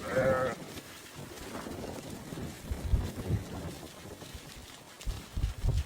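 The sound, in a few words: sheep bleating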